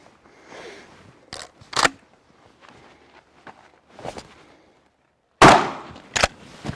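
A shotgun fires cheap SB nine-pellet double-aught buckshot during patterning, giving a few sharp, loud blasts spread across the moment, with quieter handling noise between shots.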